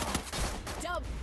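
A short burst of AK rifle fire in the Free Fire video game, quick and fairly quiet, lasting about a second.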